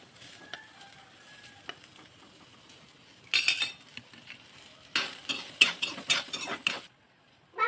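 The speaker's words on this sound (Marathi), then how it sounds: "कढई मस्त गरम झाली. आता त्याच्यात कांदा घालूया." Chopped onion drops into a hot kadhai and sizzles in bursts, with a spatula scraping and clinking against the metal between quieter stretches of soft frying hiss.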